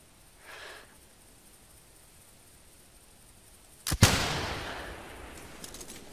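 A single loud muzzle-loading rifle shot cracks out in a hunting video game and is followed by a long, fading rumble. A faint short noise comes before it in an otherwise quiet scene.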